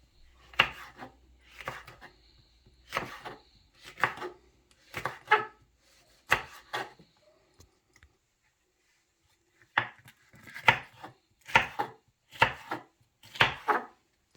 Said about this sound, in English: I'm now going to start cutting up my vegetable peppers